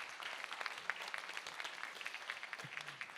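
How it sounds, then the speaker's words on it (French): Audience applause at a discussion event with the co-founders of O'Tacos, a dense, fairly faint patter of many hands clapping continuously throughout. "Oui, on peut applaudir."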